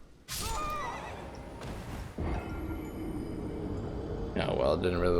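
Horse neighing in the video game Elden Ring, a loud whinny followed by hoof clip-clops over a low background drone, then a second whinny near the end, with speech present.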